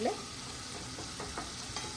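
Tomato tempering for Gujarati sweet-and-sour dal sizzling in a pan, a steady close hiss with soft scraping taps of stirring throughout.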